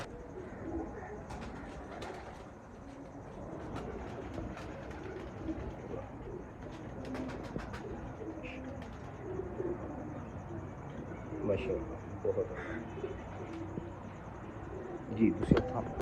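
Kamgar pigeons on Ustad Mazhar Bhatti's rooftop in a Laal Pari flock, with soft cooing and flutters over a steady outdoor background, a few sharper calls and wing sounds growing louder near the end.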